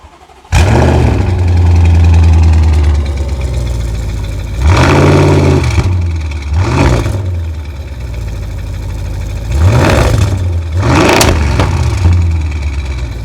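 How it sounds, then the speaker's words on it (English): A stock-power Audi RS6 fitted with a Milltek exhaust starts up with a sharp bark, idles deep and loud, then blips the throttle in several short revving bursts close to the microphone. "it has got a Miltech exhaust system which really brings the engine sound to life"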